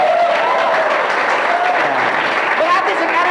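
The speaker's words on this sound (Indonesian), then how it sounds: "Dan tepuk tangan untuk kita semua." Steady, dense applause from an audience at a spoken talk, even and loud throughout with no break, voices and cheers mixed into the clapping.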